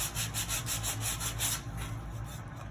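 Rhythmic back-and-forth rasping of sandpaper by hand on a wooden carry-all, about a dozen quick even strokes that then taper off.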